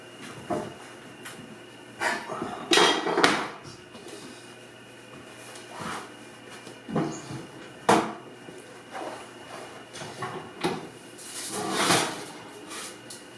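Baking trays holding homemade chorizo bread are pulled from an oven on a grid, giving a string of sharp metallic clanks and knocks spread unevenly over several seconds in a quiet kitchen.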